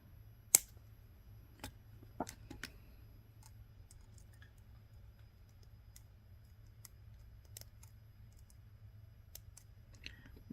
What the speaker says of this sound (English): Get our clippers out here. And cut our extra wire off.